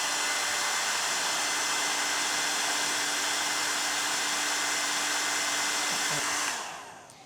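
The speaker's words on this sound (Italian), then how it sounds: "Emma, mi porti il phon così facciamo vedere come diventa quando asciughiamo?" Hair dryer blowing steadily on antique wooden sideboard being stripped of paint, a loud continuous whoosh that runs unbroken for several seconds before switching off near the end.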